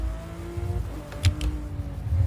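A racing sim car engine in a video game, a steady droning hum with brief crisp clicks from paddle-shift gear changes, close and moderately loud with no talk.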